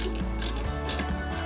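A screwdriver drives small screws into the front of a Lancia 037 scale model, giving two short ratcheting clicks over a low mechanical hum, close and crisp.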